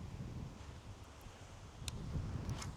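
Wind blowing steadily outdoors during bass fishing, a continuous low rumbling buffet across the microphone with faint rustling, building slightly louder toward the end.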